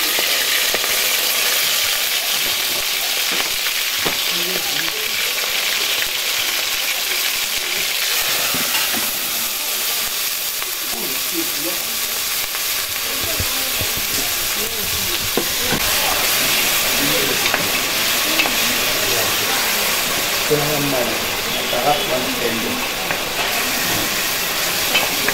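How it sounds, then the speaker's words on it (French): Chopped ingredients sizzle steadily in a hot saucepan as they are stirred into a sauce, a continuous close hiss with faint scraping and clinks throughout. "Je la mets directement dans la casserole pour faire une sauce."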